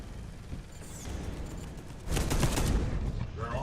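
Machine gun fire in the Space Hulk video game, a low steady rumble that swells into a louder, denser burst of rapid gunfire over the second half, with no talking.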